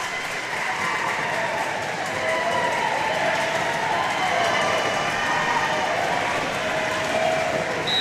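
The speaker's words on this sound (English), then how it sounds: "Crowd getting loud. The Pine City student section." The Pine City student section roars during a high school volleyball match against East Central, a steady wash of cheering and clapping filling the gym at a constant level throughout.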